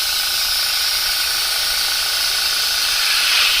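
A steady, continuous hiss of a cheap airbrush spraying paint runs unbroken and fairly loud, with no pauses or other sounds.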